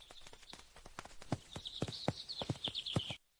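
Cartoon donkey hooves clip-clop in a steady walking rhythm, close and distinct, with a faint high tone running behind them before the sound cuts off abruptly.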